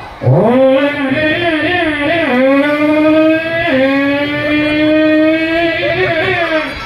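A voice imitates a motorbike engine in one sustained, loud revving drone, rising and dipping in pitch with a few gear-change-like lurches, delivered alone by a storyteller at a children's gathering.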